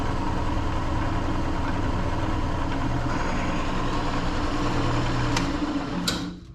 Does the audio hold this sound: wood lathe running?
yes